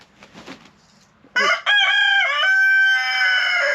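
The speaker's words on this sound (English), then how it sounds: "The rooster's kind of going crazy." On a farm, a rooster crows loudly and close by, a long strained call, after a brief burst of softer clucking and squawking from hens.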